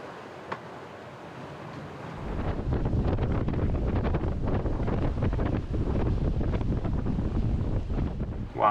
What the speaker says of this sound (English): One gust of around 30 knots now.